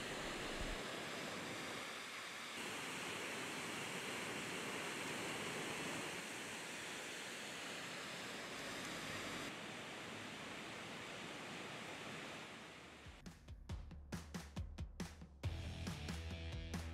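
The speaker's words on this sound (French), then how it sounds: "Nous arrivons à la cascade de Vince, nous allons nous y arrêter" The Cascade de Vince waterfall on the Bonette road gives a steady, broad rushing roar close by, which drops away near the end as louder intermittent noises take over.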